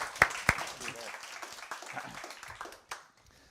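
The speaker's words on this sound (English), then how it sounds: "Give them a big round of applause" Audience applause for a team of young founders at an incubator showcase opens with a couple of sharp, close claps, then a softer patter of clapping mixed with talking voices.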